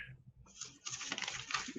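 Dice clatter down through a dice tower during a tabletop Dungeons & Dragons session, a brief close rattle of tumbling knocks that gets busier toward the end, heard faintly and alone.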